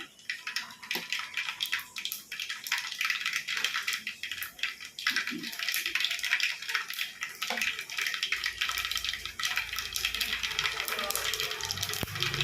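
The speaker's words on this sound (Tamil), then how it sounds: "நல்லா பொரியுது." Oil sizzles and crackles steadily in a pan while fish curry (sankara fish kuzhambu) is cooked in the Chennai Pattinapakkam style, a continuous close hiss with no pauses.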